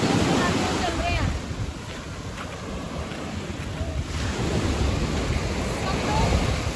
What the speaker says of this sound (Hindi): सांसें सबकी अटकी हुई हैं कि कब लहरें आए और हमें लेके चली जाए